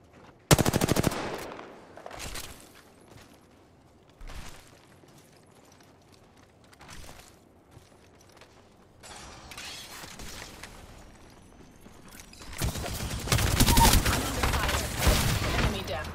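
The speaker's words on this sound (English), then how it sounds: "Shields are depleted. I'm taking shots." Apex Legends gunfire plays as loud bursts of automatic fire at the start and end, with sparse single shots and mechanical clicks between. Quieter game sounds fill the gaps.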